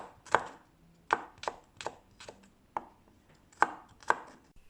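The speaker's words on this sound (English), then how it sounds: "Slice the garlic thinly." A knife slices garlic thinly on a cutting board, giving about nine crisp, close taps at an uneven pace with quiet gaps between them.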